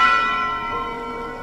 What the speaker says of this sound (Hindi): हर रात चर्च से घंटियों की आवाज आती